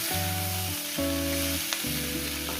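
Snake gourd cooked with egg, frying in a pan: a steady, close sizzle with a faint spoon tap, set under prominent melodic music with stepped tones.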